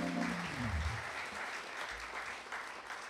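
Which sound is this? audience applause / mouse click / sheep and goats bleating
audience applause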